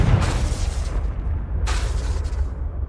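A Confringo blasting spell explodes in the Hogwarts Legacy video game: one loud booming blast at the start and a second one partway through, each trailing into a rumbling decay.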